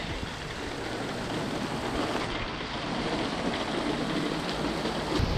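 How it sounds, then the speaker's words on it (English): Steady rain pours down during an oncoming rainstorm over a lawn, a dense, even hiss that stays constant and fairly close throughout with no voices. "this is going to be a pretty hardcore rain out"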